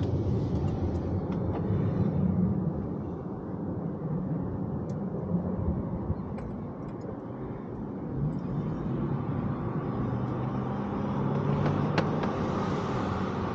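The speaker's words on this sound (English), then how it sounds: "Plus there's a jet." A jet aircraft passes overhead while a car drives through town at 35 to 40 mph with the windows down. Its faint, broad roar rises and fades under steady road and wind noise.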